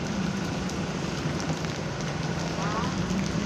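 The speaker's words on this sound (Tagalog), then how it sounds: "Lakas ng ulan dito." Heavy rain pours down in a dense, constant hiss and patter that fills the whole moment without any break.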